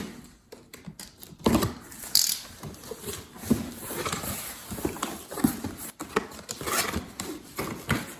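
Cardboard top of a Hoover PowerDash Pet Advanced compact upright carpet cleaner box being opened, with close scraping, rustling and clicking handling sounds in irregular bursts.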